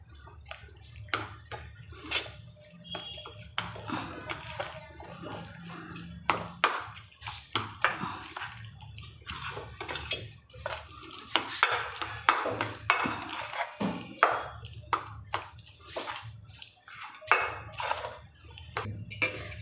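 Spicy veg toast topping mixed in a bowl, a spoon clinking and scraping repeatedly against the dish in an irregular rhythm, close and fairly clear with no talking.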